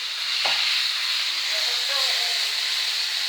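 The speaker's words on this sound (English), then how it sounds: "still frying up our nice golden brown" Chicken necks frying in hot oil, a loud, continuous close hiss and sizzle with a faint scrape near the start and a few soft background tones.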